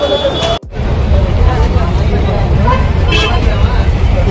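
Road traffic is snarled near a Bangalore Sunday street market, with a garbage truck blocking the way. Engines rumble steadily and loudly, mixed with crowd babble, and a brief horn sounds partway through.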